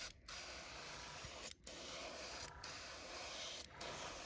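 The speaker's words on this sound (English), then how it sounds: "You want to spray that a little bit down there, just so that little bit of a pattern shows up." Gaahleri Mobius airbrush spraying paint onto a squarebill fishing lure, a soft continuous hiss of air broken by about four brief pauses as the trigger is released, close and quiet with no talk.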